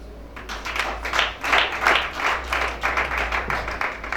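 Applause from a church conference audience in Libreville, Gabon: loud, lively clapping that comes in pulsing waves over a constant low hum.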